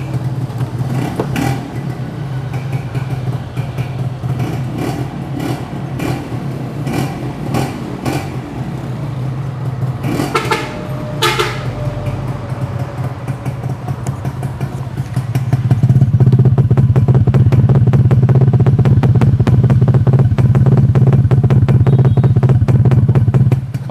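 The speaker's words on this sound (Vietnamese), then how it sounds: "Mình sẽ nổ máy các bạn." Red Yamaha Ya-Z 125 motorcycle engine being started and run up close, irregular cranking and sputtering bursts first, then a loud steady idle with a rapid even beat that settles in for the rest of the clip.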